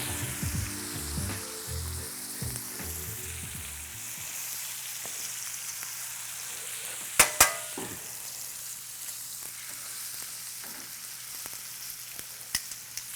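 Steak sizzles loudly in brown butter in a pan while being basted and flipped, a steady crackling hiss broken by sharp spattering pops near the middle and a low pan hum underneath.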